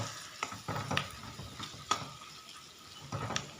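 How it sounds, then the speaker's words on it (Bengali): Fish bhujia is stirred in an uncovered pan over a low sizzle, with several soft scraping strokes and a light clink, fairly quiet and close. "এখন এটাকে ঢাকনাটাকে সরিয়ে আবার একটু নেড়ে নেব"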